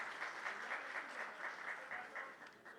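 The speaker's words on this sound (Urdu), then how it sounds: "بھرپور تالیوں کے ساتھ ہم ویلکم کریں گے" An audience gives a warm round of applause to welcome guests, including Sheikh Rasheed, at an OGDCL and Christian community event, a steady faint crowd clapping with rhythmic bursts and no talk.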